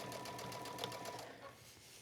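A sewing machine runs steadily with a 3.0 stitch, sewing a seam right beside the serged edge of a hooded towel, close and continuous with a light rapid rattle.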